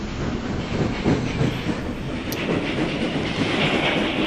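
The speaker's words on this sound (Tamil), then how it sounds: "ட்ரெயின் வந்துச்சு உள்ளே போவோம் ஏறணும்." A passenger train rolls into a station with loud, steady rail rumble and rhythmic clickety-clack of wheels over joints, a brief high hiss near the middle, carrying on without any talk.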